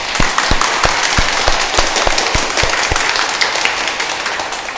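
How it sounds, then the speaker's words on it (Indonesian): A church congregation at a Christmas Eve Mass claps together in a loud, rhythmic wave of applause that keeps an even beat and fades slightly toward the end. "Mari kita beri tepuk tangan buat Tuhan kita Yesus Kristus."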